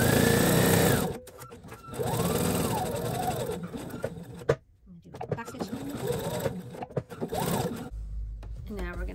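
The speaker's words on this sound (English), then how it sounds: "we're just going to sew up the side here of this lining, the same 1/4 inch seam allowance" A sewing machine runs in several bursts, stitching the side seam of a drawstring bag's lining at a quarter-inch allowance, with short pauses between runs, close and loud.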